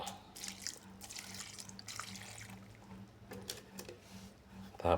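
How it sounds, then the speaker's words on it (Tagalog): Water is poured into a pot of fish paksiw with eggplant, a close, soft splashing trickle with scattered drips, a low hum sitting beneath it. "Lagyan din natin ng konting tubig."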